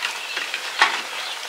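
Whole cumin seeds hit hot oil in a pan, giving a bright hissing sizzle with a sharper burst partway through, close and short.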